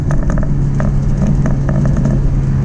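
A 2005 Honda S2000 engine runs loud and close, holding a steady high-revving drone with a sustained tone and slight mechanical whir throughout.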